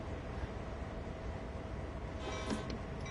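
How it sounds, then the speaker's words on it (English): A train runs in the Train Sim World 3 video game, a low steady rumble of rolling stock with a brief brighter metallic squeal near the end, no talking. "That's the train that I need to do."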